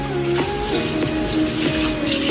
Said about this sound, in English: You just wash your board.